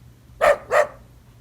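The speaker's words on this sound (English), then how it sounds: "That was a dog barking." A dog gives two sharp, loud barks in quick succession, close by, with near silence before and after.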